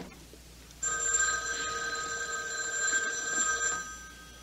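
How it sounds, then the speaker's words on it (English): A house telephone rings in a radio drama, one long bright electric bell ring lasting about three seconds, loud and close against a quiet room. "It was the house phone."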